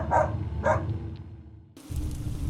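A pet dog barks indoors at night, two sharp barks close together followed by a fainter third, then a sudden steady background noise takes over.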